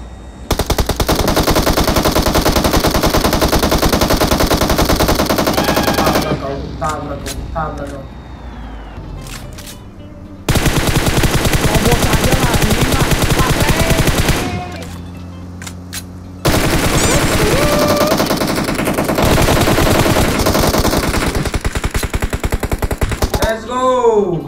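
Automatic gunfire in an online shooter game, a loud sustained burst of rapid shots lasting several seconds, broken by short pauses and followed by two more long bursts, with game effects and faint voices in the background.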